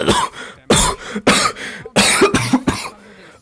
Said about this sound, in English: Oh, that made me cough.